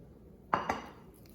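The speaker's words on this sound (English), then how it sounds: "So now we're gonna start mixing everything all up." Two quick, sharp clinks of a utensil against a bowl while oil, baking powder and eggs are mixed together, close by and alone in a quiet room.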